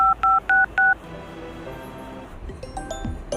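A telephone being dialed: four loud, evenly spaced keypad tones, then a quieter stretch with faint beeps and a few soft clicks.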